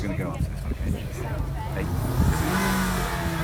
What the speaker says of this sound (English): Give it a rev, Rana